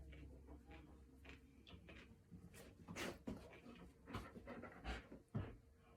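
A German Shepherd pants in quick, faint, breathy bursts close by, the rhythm uneven with a few louder huffs, and no talk over it.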